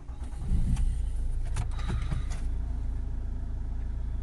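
A Ford Kuga 2.0 diesel engine in limp mode with a particulate filter fault cranks briefly, then catches and settles into a steady low idle rumble, heard up close without any talking.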